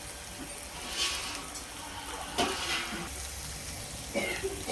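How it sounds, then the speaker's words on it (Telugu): Water is poured into fish curry masala frying in a pot for a mango fish stew, raising a soft sizzle and splashing stir sounds with a few clinks, close and moderately quiet. "దీంట్లో కొద్ది వాటర్ పోద్దాం."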